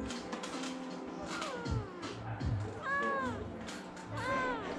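Cats meow at a cat cafe run as a nonprofit adoption center, several rising and falling meows close by, mixed with light background chatter and room noise.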